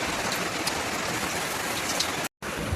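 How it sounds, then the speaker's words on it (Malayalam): Heavy rain pours down at night in a continuous, dense hiss of water striking surfaces. It holds steady throughout, broken only by a brief dropout near the end. "രാത്രി ആയപ്പോഴേക്കും നല്ല മഴയാണ് കേട്ടോ"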